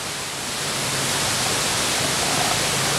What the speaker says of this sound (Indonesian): Air terjun Lembah Anai, saudara. Sekitar 30 meter tingginya.